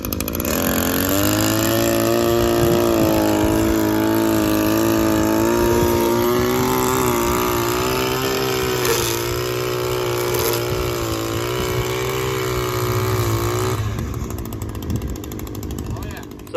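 An Echo SRM-2320T string trimmer starts on the first pull and runs loud and close, its engine whining and revving steadily for over ten seconds before dropping back toward idle.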